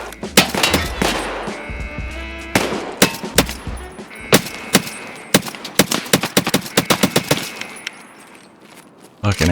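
Gunfire from an AI scav in Escape from Tarkov on the Reserve map: sharp, loud shots in irregular bursts and rapid strings, some nearby and some echoing, with metallic clanks between and someone talking over them.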